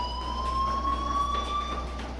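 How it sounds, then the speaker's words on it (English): Fire alarm in the Life Is Strange video game, a steady electronic siren tone with bright overtones sounding loudly and continuously over a low hum. "do you hear that fire alarm?"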